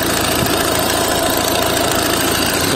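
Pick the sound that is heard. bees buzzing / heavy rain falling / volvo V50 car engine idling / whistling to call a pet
volvo V50 car engine idling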